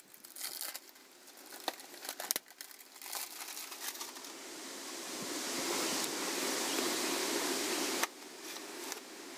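Cardboard and plastic packaging of a Castle Creations Sidewinder 8th Scale SW8 RC car box being torn open, crinkling and ripping in loud, continuous bursts that build into a sustained rough tearing noise, with a brief pause and sharp rip near the end.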